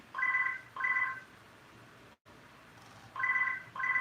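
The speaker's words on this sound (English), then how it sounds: "it's just the house phone." A house telephone rings in two pairs of electronic trilling bursts separated by a pause, clear and moderately near against a quiet room background.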